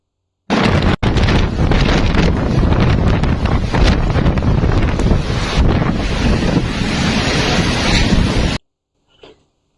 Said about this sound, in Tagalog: Ito naman ay nakuhanan sa may tabing dagat at ang lakas ng alon.